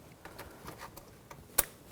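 A hose connector snaps and locks onto the purge solenoid port of a 2006-2010 Hummer H3, giving one sharp close click after quiet handling noises.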